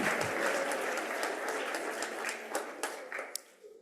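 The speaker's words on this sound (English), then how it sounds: "Let's give them a round of applause." An audience at a green schools awards celebration gives a round of applause. The clapping is dense and fairly distant and fades out over a few seconds, with no one speaking.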